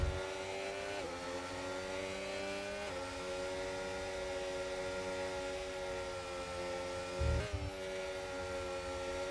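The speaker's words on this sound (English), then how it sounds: "Downshifting in turn 9." A sim racing car in an online Saudi Arabian Grand Prix league race howls at high revs, its engine note dropping sharply several times as it downshifts, with a brief low thump near the end and no talk.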